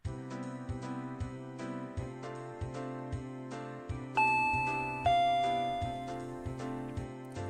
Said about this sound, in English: I heard the doorbell 10 minutes later.